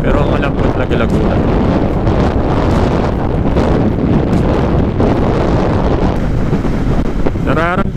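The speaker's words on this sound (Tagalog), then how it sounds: "Nararamdaman na natin yung lakas ng hangin." Strong typhoon wind batters the microphone on a coastal motorcycle ride on a Honda PCX 160, a continuous loud roaring rush with no letup.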